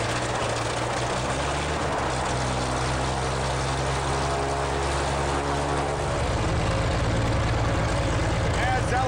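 Red Bull Air Race propeller planes fire up their engines on the tarmac in Istanbul, a steady droning engine hum with a low rumble that shifts pitch partway through, continuous and fairly close.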